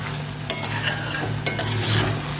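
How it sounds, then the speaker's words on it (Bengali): Spices stir-fried in a pan for a Bengali gherkin curry, a continuous close sizzle with two sharp spatula scrapes against the pan, no talking. "সমস্ত মশলা দিয়ে নিয়ে কষে নেব"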